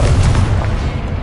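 A Confringo spell explodes in a Harry Potter video game, a short, loud, close boom with a rumbling low-end burst that fills the whole moment.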